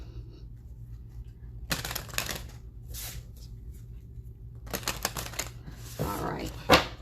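Tarot cards being shuffled by hand in a few short riffling bursts with crisp papery flicks, separated by pauses, ending in a louder rustle and a sharp snap.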